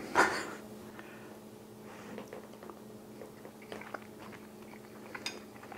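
Someone chewing a mouthful of sambal badjak with rice, with soft close wet mouth sounds and a few faint clicks after a brief louder bite near the start, and no talk.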